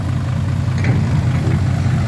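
Diesel engine of a Kobelco SK200 excavator running steadily at a low idle-like rumble, close and loud with constant vibration and no pauses, during farmland filling work.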